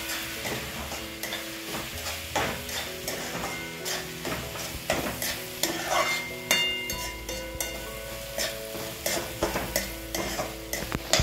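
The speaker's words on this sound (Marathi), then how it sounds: "हळद, गरम मसाला आणि धने मसाला चांगलं मिक्स करून घेऊया आता आपण." Spices, namely turmeric, garam masala and coriander powder, being stirred into onions in a pan for a baby prawn masala: steady, close scraping and clattering strokes with a faint frying hiss underneath, with no talking.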